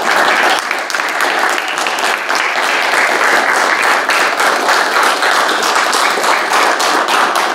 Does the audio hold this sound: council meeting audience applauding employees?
yes